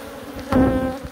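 Honeybees buzz steadily and close during varroa mite sampling at a hive, the drone swelling briefly midway through a short stretch with no talk.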